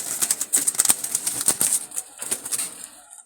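Jalali pigeons in a loft flutter and flap their wings restlessly, producing dense, repeated close wingbeats and rustles over a steady high-pitched background, with no talk.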